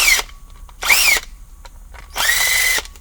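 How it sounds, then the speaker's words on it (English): A power drill backs the four screws out of the bottom of a remote-start transponder box for a 2000 Ford F150, in three short whirring bursts separated by brief pauses, close and loud. "I'll pop the 4 screws out of the bottom,"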